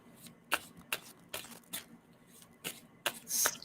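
A deck of tarot cards is shuffled by hand in a series of short, crisp riffling bursts with pauses between them, close and fairly quiet.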